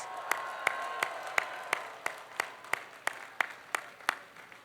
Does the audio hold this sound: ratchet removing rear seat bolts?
no